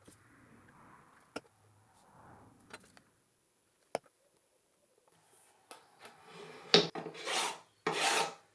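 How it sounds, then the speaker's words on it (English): Wood being sanded by hand on a custom multi-scale Strat guitar fretboard with mother-of-pearl dot inlays, soft scratchy rasping strokes at first with a few sharp taps, then louder, longer rhythmic sanding passes near the end. "Once the dots are in, I can start sanding up the fretboard"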